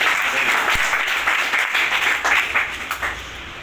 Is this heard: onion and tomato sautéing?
no